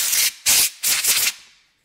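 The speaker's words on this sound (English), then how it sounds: "I get this can spray duster cleaner here, aerosol can, and you can kind of just spray off" Aerosol duster can spraying off a Curado 300EJ fishing reel spool: three short, close hissing bursts in quick succession, the last trailing off into silence.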